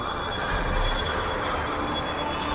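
A train rolls past in the game Granny: The Afterlife with a steady rumble and a sustained high metallic squeal from the wheels, loud and continuous.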